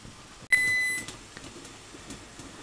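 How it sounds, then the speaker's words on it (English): A kitchen timer signals the end of a canning batch of cranberry sauce: a single bright electronic beep lasting about half a second, loud and close, followed by quiet room background. "Okay, the timer's going off."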